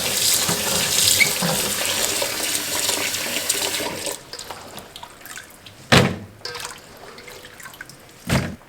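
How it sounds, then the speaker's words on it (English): Fresh green beans are rinsed under a running kitchen tap into a sink, with a steady close stream for several seconds. The water then stops, followed by a couple of short knocks and splashes. "But I want to give them a good rinse to get off the."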